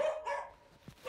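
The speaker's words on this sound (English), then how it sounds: "So I bark." A Rottweiler gives a couple of short barks close by, the first two loud and rough, followed by quieter pauses and a faint closing bark.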